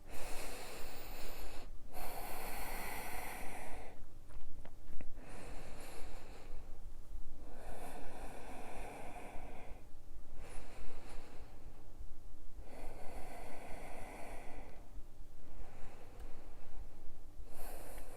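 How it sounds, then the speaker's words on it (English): Deep, slow breaths during a yoga flow, long airy inhales and exhales through the nose repeating at a steady, unhurried rhythm with pauses in between, close and clear with no talking. "Couple of nice deep breaths."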